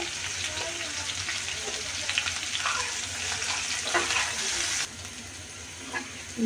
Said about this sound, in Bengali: করলাকে আমি কিছুক্ষণ ভেজে নিলাম ফোড়া ফোড়া করে